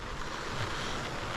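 The flooded Poltarca river rushes in a steady, dense roar of churning water heard from nearby, with wind buffeting the microphone and no voices.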